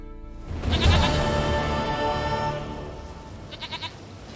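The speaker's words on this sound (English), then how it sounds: "Goat of mine, dearest, sweetest goat." A goat in The Witcher 3: Wild Hunt gives one long, loud, wavering bleat close by, with a brief quavering tail at the end.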